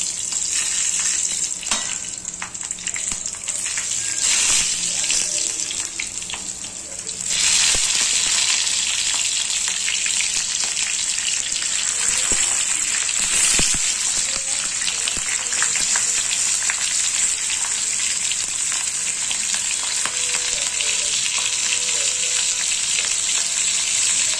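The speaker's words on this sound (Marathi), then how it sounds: "तर आता हे तेल तापलेलं आहे. मग आता ह्या मिरच्या अशा सोडून द्यायच्या." Green chillies dropped into hot oil set off a loud, steady, continuous sizzle and crackle of frying that fills the whole stretch, growing slightly fuller after a brief dip partway through.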